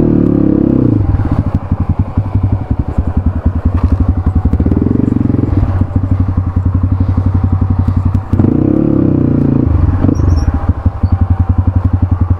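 A motorcycle rides across a bridge near Ranimahal, Nepal. The engine drones loudly and steadily while the deck rattles and clatters continuously beneath the wheels, with a couple of brief surges in engine tone.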